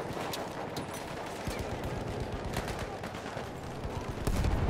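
Heavy machine gun fire in the World War I shooter Battlefield 1, a dense, continuous rattle of rapid shots, close and loud throughout, with a heavier burst near the end.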